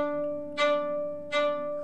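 A faint, thin bowed violin note struggles to sound, with two brief scratchy bursts as the bow grips the string weakly over a steady sustained tone, played close and alone in a beginner lesson.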